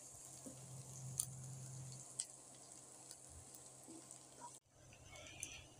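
Chopped onion and garlic fry in hot oil with a faint, steady sizzle, broken by a few soft clicks and stirring sounds and a short pause near the end.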